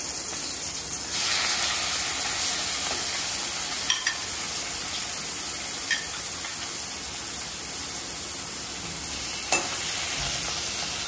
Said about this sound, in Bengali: এবার আমি চিংড়ি মাছটা হালকা করে ভেজে নেব, একদমই কম ভাজবো।